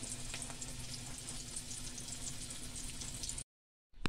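Shrimp paste omelette (tortang alamang) is frying in hot oil, giving a continuous close sizzle and crackle. It cuts to silence for a moment near the end and then returns briefly, with no one talking.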